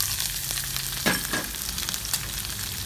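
Chopped green onions fry in hot fat for grilled corn, a dense continuous sizzle with a sharper flare of crackling as they hit the pan, heard close and steady without talk.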